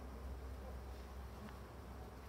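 Honey bees crawl over a hive frame that still holds last year's feed during a spring colony inspection, making a faint, continuous low buzzing hum at close range.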